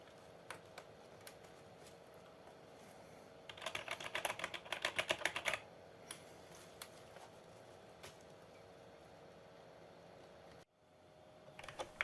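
Keys clicking on a 486 PC keyboard with a faulty keyboard controller, scattered single presses, then a quick burst of rapid typing in the middle, followed by a few more isolated clicks over a steady electronic hum.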